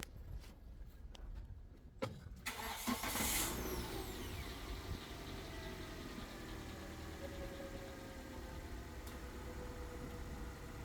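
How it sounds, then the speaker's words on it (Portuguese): A car engine cranks over and catches, then settles into a steady, fairly quiet idle that runs on alone at an even level, with a brief faint squeal near the start. "vamos ligar o carro aqui"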